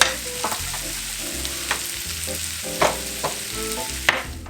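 Browned onions frying in a pan for crock pot queso dip, with a steady sizzle under several sharp scrapes and clinks of stirring, close and alone.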